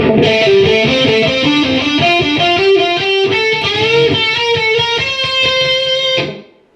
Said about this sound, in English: So the run-up lick will sound like this.